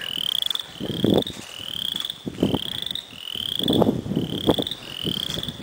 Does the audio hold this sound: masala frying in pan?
no